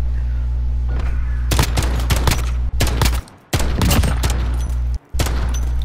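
Call of Duty tournament gameplay with rapid bursts of gunfire, sharp sniper rifle cracks among them, loud and repeated over a steady low game hum, with brief drops to near silence between volleys.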